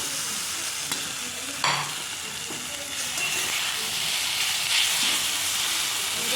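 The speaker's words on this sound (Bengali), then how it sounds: "ভাজলেই রেডি আটা নুডলস ভেজ।" Boiled atta noodles with vegetables fry in a pan, making a constant hissing sizzle with occasional clinks and scrapes of stirring, and a faint voice in the background.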